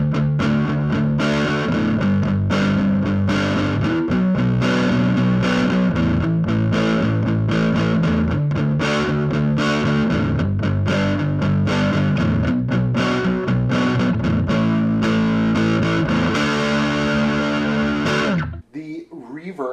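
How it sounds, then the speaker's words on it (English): Electric guitar run through a Boss DS-1 distortion pedal cranked fully up into a Roland JC-55 amp, played as a fast, dense rhythm part with loud, continuous saturated chords for nearly twenty seconds before cutting off abruptly. "Okay, the world's worst distortion, as everybody calls it. I'm just going to dime it, make it fast here. Like I said, it's a DS1"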